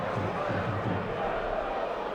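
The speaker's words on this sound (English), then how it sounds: "The home crowd appealing for a handball." A home football crowd at a Munich third-division match raising a collective shout of appeal for a handball, a broad, moderately distant roar of many voices swelling and holding in a stadium.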